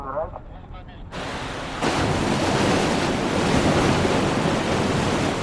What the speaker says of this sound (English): Water surges into the massive pool.